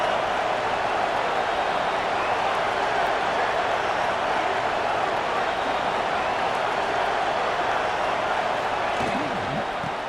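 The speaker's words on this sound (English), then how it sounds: "3rd down and the crowd really getting into it" Steady, dense crowd roar from a stadium in EA Sports College Football 26, a third-down moment in a CFP game at Oregon, sustained and loud throughout with no breaks.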